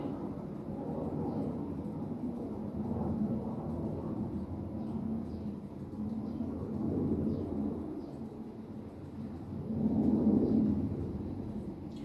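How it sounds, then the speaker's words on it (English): Low, broad rumble of traffic and aircraft passing outside, swelling and fading in slow waves with a louder roar near the end. "Airplanes and cars."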